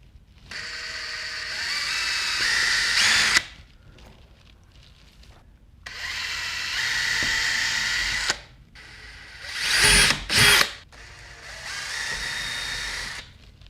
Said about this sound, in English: I'm about to drill 4 holes across the back of my Corvette